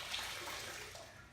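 A wet wash rag soaked in Optimum No Rinse car wash solution is wrung out, giving a faint, brief splash and trickle of dripping liquid.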